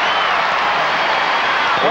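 A basketball arena crowd at a college game swells into a steady roar of cheering and clapping, loud and continuous throughout, with a commentator's voice faintly woven in.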